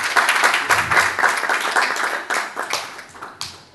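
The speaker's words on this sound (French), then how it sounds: "Prière de l'applaudir, s'il vous plaît." Audience at a forum of Congolese students in China applauds a candidate introduced on stage, a brief round of fairly loud, dense clapping that gradually tapers off.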